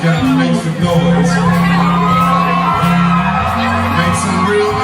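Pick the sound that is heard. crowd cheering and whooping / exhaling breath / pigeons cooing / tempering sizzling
crowd cheering and whooping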